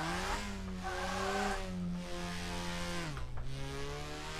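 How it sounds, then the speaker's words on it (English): Subaru BRZ engine in the drift game DRIFT21 revs steadily with a slipping clutch, a loud continuous droning note that wavers and dips briefly near the end before holding on. "Clutch slipping."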